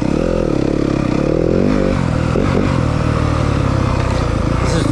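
A 2023 Yamaha 250FX dirt bike pulls through a tight technical section in second gear, its engine loud and close, rising and falling steadily with throttle changes amid some clatter.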